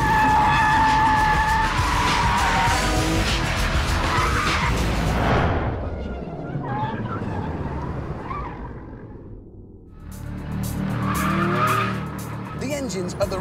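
Loud engine roar of a 2003 Porsche 911 GT3 with a long, wailing tire squeal as it slides sideways, fading, then rising again with more screeching; a voice talks over part of it.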